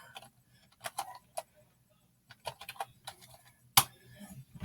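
Keystrokes on an ONN computer keyboard come in scattered bursts of typing separated by short pauses, with one sharp louder clack near the end, close and fairly quiet.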